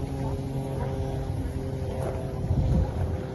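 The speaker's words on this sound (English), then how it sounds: "And there is the Marshall engine." A small Marshall stationary engine at a vintage tractor show chugs steadily with a low, even drone and a faint rhythmic thump, running continuously at a moderate distance.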